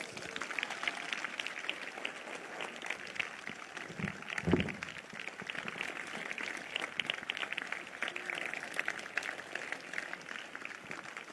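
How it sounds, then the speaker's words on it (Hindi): A church congregation claps steadily and continuously through a morning worship service, a dense sustained patter of many hands heard at a moderate distance with no break. "तालियां नहीं रुकनी चाहिए।"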